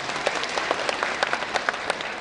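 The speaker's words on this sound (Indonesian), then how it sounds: "berikan tepuk tangan." A church congregation at a festive worship service in Batam claps in a brief burst of applause, a dense patter of many hands at moderate distance with no talking.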